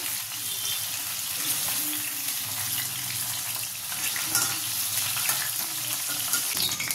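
Pointed gourd (potol) pieces frying in hot oil in a home kitchen, a steady, close sizzle with faint stirring, no talk.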